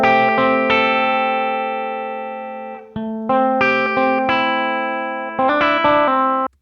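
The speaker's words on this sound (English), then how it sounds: "let's go ahead and take a listen to this guitar track right here" Electric guitar track with sustained, distorted chords and single notes played at uneven levels, some ringing out loud and others noticeably softer, each note decaying slowly before the next is struck.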